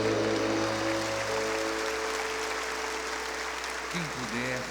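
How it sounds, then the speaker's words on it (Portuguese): Congregation at a national Catholic evangelization retreat applauds, a broad wash of clapping hands sustained throughout, with a lingering musical tone and a voice briefly rising near the end. "Uma salva de palmas ao arcanjo de Deus."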